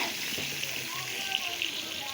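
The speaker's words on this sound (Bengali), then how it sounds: "লবণ দিয়ে আলুটা আমি এখন ভালো করে ভেজে নেব" Small homegrown peeled potatoes, pricked with a fork and salted, fry in hot oil for a mutton curry, giving a steady close sizzling hiss while someone talks.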